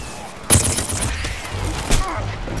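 Plants vs. Zombies: Garden Warfare combat, with sharp bursts of gunfire and blasts, one loud hit followed by scattered shots and a second burst, heard over ongoing game noise.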